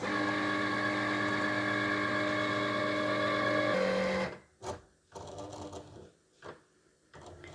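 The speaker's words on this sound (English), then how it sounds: "the Cricut is actually reading all of these, the black lines that it makes, so it knows exactly where to write and then to cut" A Cricut cutting machine hums with a steady whirring motor drone, reading printed lines and writing with a pen, then stops and gives a few short mechanical whirs.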